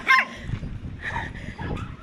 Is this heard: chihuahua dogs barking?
yes